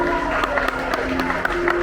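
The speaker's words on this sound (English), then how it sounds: "Round of applause for our volunteer." An audience at a bird show in Disney's Animal Kingdom applauds a volunteer, a steady wash of many hands clapping outdoors for about two seconds with crowd murmur mixed in.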